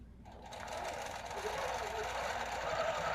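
A sewing machine runs steadily while stitching a quilt, a continuous close mechanical whir that starts after a brief quiet moment and holds even throughout.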